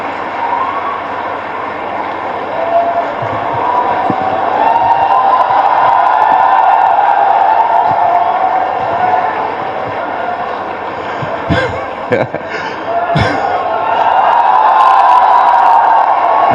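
A large crowd claps and cheers loudly and steadily to welcome MP Ravi Kishan onstage at a public event with CM Yogi, a dense, sustained roar of applause.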